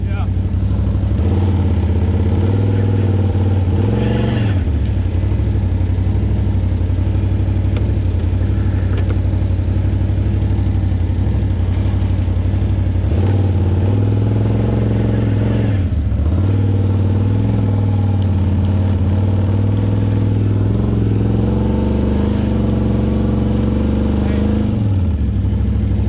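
A brand-new Can-Am Outlander 1000 XMR ATV sits in neutral, its engine running loud and close in a steady drone that rises in several repeated revs, with people talking over the noise.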